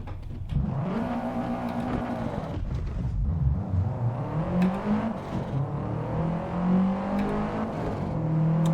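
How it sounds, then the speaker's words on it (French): A Subaru WRX STI accelerates from 0 to 100 km/h on a track, engine note rising through the revs with audible gear changes, a continuous close loud roar throughout. "On y va avec le test de la Subaru STI. Donc, on va commencer par le 0-100."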